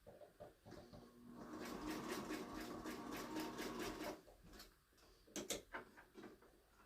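Sewing machine stitching an appliqué with a thicker thread and lengthened stitch, a rapid rhythmic mechanical whir for a few seconds, fairly quiet and close, followed by a few clicks.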